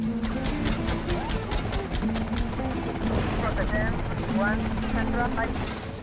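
Helicopter rotor blades chop rapidly in the video game GTA Vice City under someone talking, a steady whirring beat with a mechanical hum.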